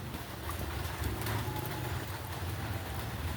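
Steady rain falls outdoors as a dense, even patter that holds a constant level throughout, with no voices heard.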